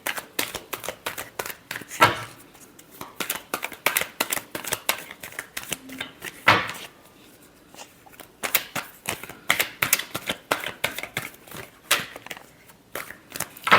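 Tarot cards being shuffled by hand, a rapid series of close, crisp riffling and slapping bursts in irregular clusters, with short pauses between rounds and no talking.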